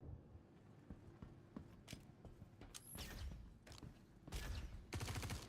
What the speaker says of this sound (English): there's a dude over there trying to shoot me